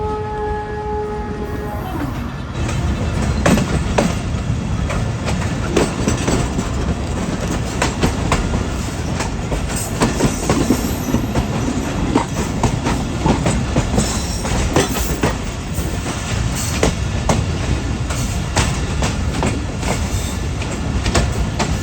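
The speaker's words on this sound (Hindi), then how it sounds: "तो 5:46 पर ट्रेन हमारी अप्रोच बना रही है नवाबशाह रेलवे स्टेशन पर" Rehman Baba Express passenger train pulling into Nawabshah railway station, a steady loud rumble with rolling wheel clatter throughout, preceded by a brief tonal call to prayer from the town at the very start.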